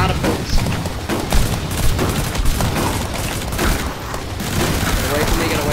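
Rapid, dense gunfire from the zombie shooter game Zombie Survivors, a continuous barrage of overlapping shots with booming hits that runs steadily throughout at a loud, even level.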